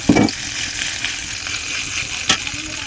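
A spoon stirring ground cumin paste and dried red chili paste in a hot frying pan, with steady sizzling frying and two brief scraping knocks, close and alone.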